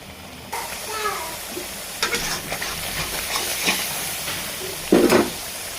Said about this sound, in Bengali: পাঁচ মিনিট ভালো করে মশলা কষিয়ে নেব